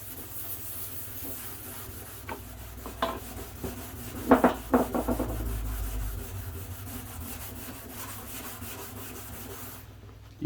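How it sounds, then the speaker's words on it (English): A very rough Scotch-Brite pad is rubbed over a glossy painted surface to dull it before paint stripping, giving a close, continuous scrubbing hiss with a few louder scraping strokes in the middle. "I've got this very rough Scotch-Brite pad, and so I'm going to go all over the surface to take the gloss off"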